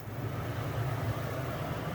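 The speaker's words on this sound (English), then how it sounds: "I'm gonna go ahead and turn my fan on, my exhaust fan on." A kitchen exhaust fan runs at high speed, producing a steady, fairly quiet whirring hum with a low-pitched drone and no voices.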